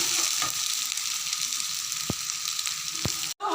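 Soybean chunks sizzle and fry steadily with spices in a hot pan, a continuous close hiss broken by two sharp stirring knocks and a brief cut near the end.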